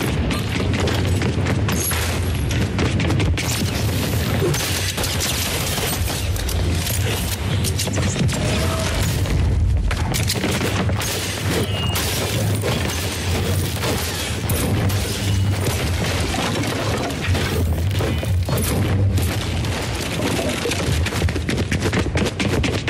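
Gunfire in the Fortnite video game, in a solo versus squads zero-build match, rattles on without letup: dense, loud bursts of shots and booms packed together for the whole stretch.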